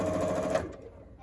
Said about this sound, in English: I've got a quarter inch foot here on my sewing machine.